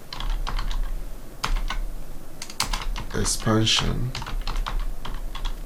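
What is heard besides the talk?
typing on a computer keyboard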